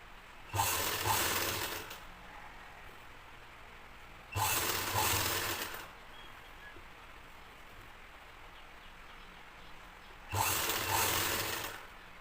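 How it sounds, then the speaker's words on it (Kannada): A sewing machine fitted with a double foot stitches thread piping around a blouse neckline, running in three short close bursts separated by quiet pauses. "ಆ ಮಾರ್ಜಿನ್ ಪ್ರಕಾರ ಸ್ಟಿಚ್ ಮಾಡ್ತಿದ್ದೀನಿ"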